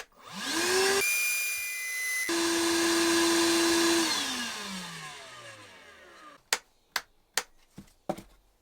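A small cordless vacuum cleaner motor whirs up to a steady high whine, shifts pitch, then winds down; several sharp clicks follow, close by with no talking.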